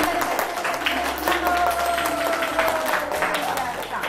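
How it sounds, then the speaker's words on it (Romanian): A room full of people at a home surprise in a village claps steadily for several seconds, with a few voices calling out over the applause. "Noi îl aplaudăm pe Adrian"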